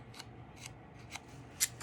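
Scissors snipping through paper while making a journal flap, five short crisp snips spaced across the moment, the last one loudest, over a low steady room hum.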